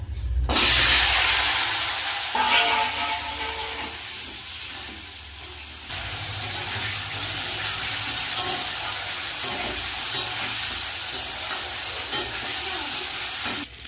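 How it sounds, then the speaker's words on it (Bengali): Potatoes and vegetable stalks frying in hot oil in a pan, a loud burst of sizzle that settles into a steady crackling hiss with occasional stirring knocks. "ভেজে নেব আলু আর ডাটা"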